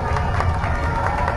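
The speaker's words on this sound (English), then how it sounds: "Crowd noise is getting louder." A football crowd cheers and roars in the stands at a high school game between Notre Dame Academy and Sheboygan South, a loud, sustained wash of voices with rhythmic stomping pulses.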